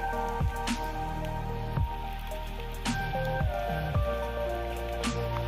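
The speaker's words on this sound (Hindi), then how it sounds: "यार अस्मित, इतनी बरसात में क्यों बुलाया तुमने?" Heavy rain pours in a steady, even hiss, with occasional louder drips and splashes landing every second or so. It stays close and constant throughout, with no voices.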